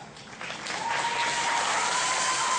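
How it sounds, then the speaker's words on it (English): A concert audience breaks into applause, starting modestly and swelling into a full, steady wall of clapping that holds to the end. "round of applause, please."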